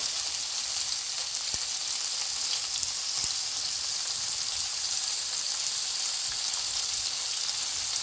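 Shrimp dropped into preheated oil in a pan for a Jamaican-style coconut shrimp pasta, crackling and sizzling in an even, hissing wash with a couple of sharp pops, steady throughout with no talking.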